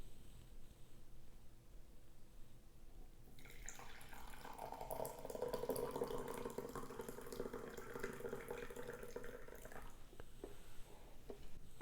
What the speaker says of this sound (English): And then I'm going to just gently pour my coffee.